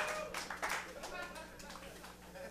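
A short burst of clapping from a comedy open mic crowd, fairly faint and scattered, lasting a couple of seconds.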